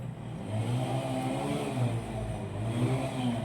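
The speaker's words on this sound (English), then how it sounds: "There's a motorcycle." A motorcycle engine drones steadily as it passes nearby outside, with a low rumble and rising revs, loud and continuous, with no talking.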